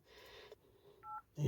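A phone keypad gives a few short, separate dialing beeps as a number is entered, quiet and close, with a louder thump right after.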